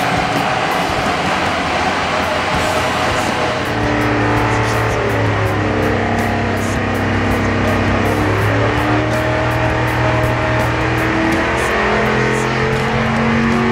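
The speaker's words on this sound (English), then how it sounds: "This week we've got our Project Redline motor on the dyno" Project Redline race car engine on a JR Motorsports dyno, very loud and close, a sustained carbureted roar that climbs in pitch as it revs hard and holds at high speed.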